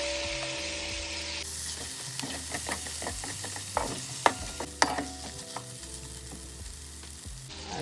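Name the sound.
tomato sizzling in the pot for Jamaican brown stew pork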